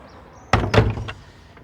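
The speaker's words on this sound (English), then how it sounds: "Just close the clunky door." A clunky garden door swung shut, landing as two heavy wooden thuds in quick succession with a faint rattle after, close and loud against a quiet outdoor background.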